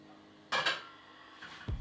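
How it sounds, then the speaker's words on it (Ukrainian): A bowl of vinegar is set down over a water bath on a low stove while making eggs Benedict, giving a couple of quick clinks and a soft knock of crockery, fairly quiet in a still kitchen. "Ставимо миску з оцетом на водяну баню."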